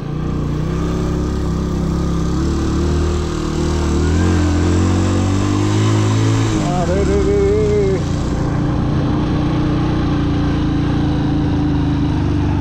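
A 100cc motorcycle labors up a steep hill road in Sikkim, its engine droning loud and close as the pitch rises and strains, then shifts and drops away; a man briefly calls out over it.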